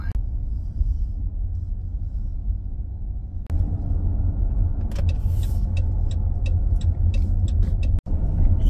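Road traffic passes through a crowded Blue Spring State Park in Florida on a weekday, a loud steady engine rumble with a thump partway through, some brief high tones, and a short dropout near the end.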